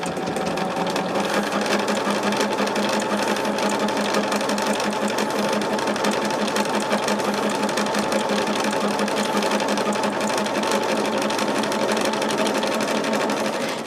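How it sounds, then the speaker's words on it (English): A sewing machine stitches rows of a quilt together, a fast, steady mechanical whir and rapid needle ticking running nonstop at close range. "And start sewing from the bottom."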